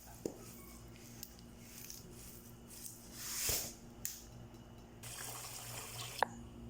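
Rice is washed by hand with a little salt in water, faint splashing and sloshing with a few small knocks, quiet and close, and a brief louder rush of water near the middle.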